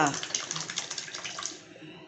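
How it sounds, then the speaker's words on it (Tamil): Tamarind water and lentil cooking water poured into a pot of sambar, a close, steady splashing pour lasting about two seconds and easing slightly toward the end. "இப்போ வந்து இந்த பருப்பு தண்ணி புளியில் வச்ச புளி ஊற்றி வச்சுருக்கோம்ல அதை ஊற்றிடலாம்"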